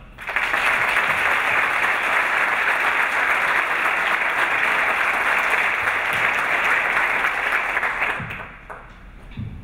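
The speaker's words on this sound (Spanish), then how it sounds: "les pido un fuerte aplauso" A graduation ceremony audience applauds loudly and continuously for several seconds, a full dense wash of clapping that tapers off near the end.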